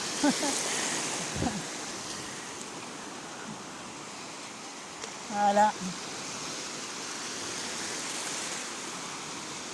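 Small ocean waves at a surfing beach give a steady, soft wash of surf noise throughout, with a brief spoken word partway through.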